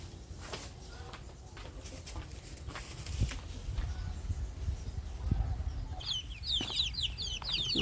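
Chickens cluck softly around a rural outdoor spot amid steady background noise, with a faint higher squawking call near the end.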